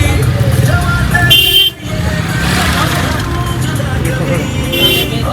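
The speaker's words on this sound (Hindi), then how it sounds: "इतने हॉर्न बजाते हैं लोग" Car horns honk in a busy street amid traffic noise during an Independence Day outing, with people talking nearby over the constant din.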